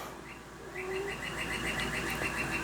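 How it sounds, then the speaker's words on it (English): A red cardinal sings outdoors in the background, giving a run of repeated clear whistled notes in a steady rhythm over a low constant hum. "He's a red cardinal"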